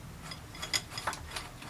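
A threaded rod, M12 or M16 size, is wound by hand with two big washers to press a mountain bike headset, giving quiet, irregular metallic ticks and ratcheting clicks close by, with no talking.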